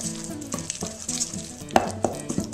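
Cream cheese being stirred with fresh dill, ground pepper and a squeeze of lemon juice, a spoon scraping and clicking against the bowl in a close, irregular series of soft knocks.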